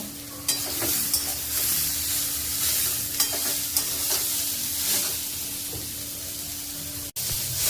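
Fish frying in oil in a pan, a steady close sizzle with occasional scrapes and stirring clicks, running on without talk and cutting out briefly near the end.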